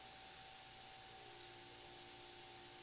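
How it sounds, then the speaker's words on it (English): Airbrush spraying paint onto a panel, a faint, steady airy hiss with a thin constant tone running through it, close and alone. "I start moving back and forth until I get a nice flow, like that"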